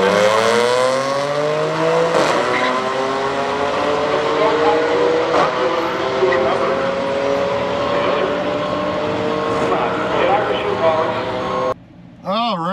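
An Audi B8 S4 tuned to stage 2+ with a dual pulley and E40 fuel accelerates down a drag strip at night, the engine and supercharger whine climbing steadily through gear changes, loud and close, with a person talking near the end.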